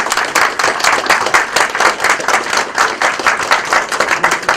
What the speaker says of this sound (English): So please can we give them a big round of applause.